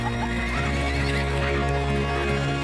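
Icelandic horses neigh and whinny loudly and close by over a steady rumble of hoofbeats, the whinnies rising and falling across a few seconds in a harsh outdoor setting.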